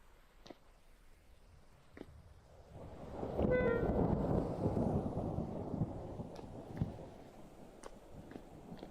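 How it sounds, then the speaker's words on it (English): Thunder rolls through a Vintage Story game world: a deep, broad rumble swells after a few quiet seconds, holds loud for several seconds, then fades into faint crackling ambience. "I don't know why the thunder is so loud."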